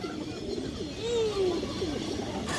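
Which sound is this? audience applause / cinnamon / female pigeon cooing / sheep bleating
female pigeon cooing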